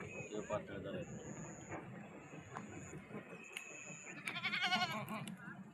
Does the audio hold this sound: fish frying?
no